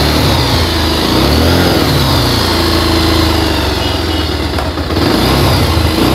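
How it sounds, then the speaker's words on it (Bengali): A Bajaj Pulsar motorcycle engine runs loud and close, idling with a steady throb and rising into repeated revs, with no voices over it. "আমরা বাইকের সাউন্ড কন্ডিশন একটু শোনানোর চেষ্টা করতেছি আপনাদেরকে"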